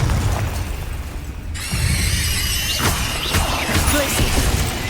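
A Confringo fire-blast spell from Hogwarts Legacy bursts as a sudden boom, then a bright crackling explosion and a second impact a moment later, loud over continuous game ambience.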